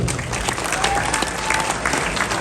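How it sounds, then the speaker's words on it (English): An audience at an interview event with Khabib Nurmagomedov in Canada gives a full round of applause, a dense, even roar of clapping that holds steady throughout. "So, round of applause"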